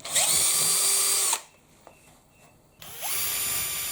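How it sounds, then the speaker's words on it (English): A power drill with a sheet metal bit whines loudly in two bursts drilling steel, a brief pause with faint clicks between them, close by with no talking. "I use a sheet metal drill which self-centers and avoids the need for center punching."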